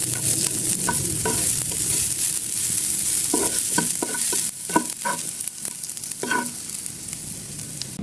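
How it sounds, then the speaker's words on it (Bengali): Chopped onions fry gently in oil, giving a continuous close sizzle with intermittent scraping strokes as they are stirred, and no voices. "এরপর টমেটো উঠিয়ে কিছু পেঁয়াজ কুচি নরম করে ভাজবো।"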